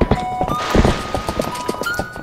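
Horse hooves clip-clop in Zelda: Twilight Princess, a quick series of close, distinct hoof thuds in an irregular rhythm with faint game tones behind.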